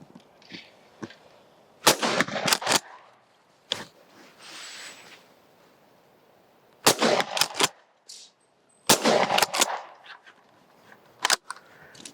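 Shotguns, one about 60 years old and one brand new, fire outdoors in several loud, sharp bursts of closely spaced blasts separated by quieter pauses.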